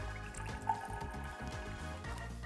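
About 20 ml of water poured into lemon juice for a vinaigrette, a brief, faint trickle and drip close by under quiet, steady background noise.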